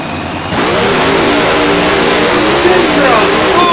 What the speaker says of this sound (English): There he goes with his long burnouts.